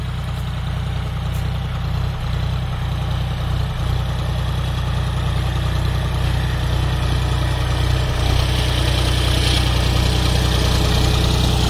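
A John Deere 5205 tractor, a 50 hp machine pulling a harrow, runs steadily at about 1300-1400 RPM, its low diesel drone constant and close throughout with no voices.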